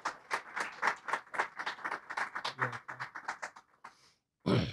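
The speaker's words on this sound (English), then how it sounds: "Everybody give Ronald Wimberly a round of applause," Audience applause at a comics conversation event welcoming Ronald Wimberly, a fairly close patter of individual claps that thins out and stops, with a brief louder burst at the end.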